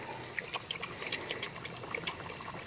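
Water trickles and splashes as it is poured steadily into a dog bowl, soft and close with small bubbling spurts.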